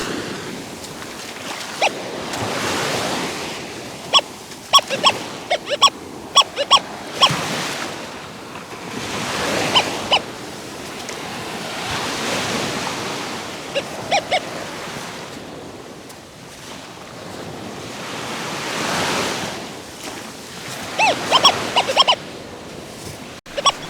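Ocean waves on a beach, recorded close: surf rolls in and washes out in broad surges every few seconds under steady wind noise, with sharp clicks and taps scattered through the noise and no voices.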